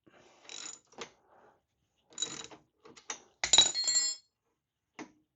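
Ratchet wrench tightening a nut on a highway peg mount of a 2008 Harley Davidson Heritage Softail Classic, short bursts of close metallic clicking with pauses between strokes.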